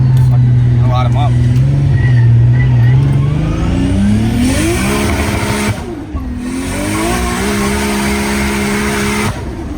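A 30-year-old Nissan launches hard in first gear, engine rising sharply through the revs as the tires spin with a squealing edge, loud and close throughout, the note climbing in stepped surges.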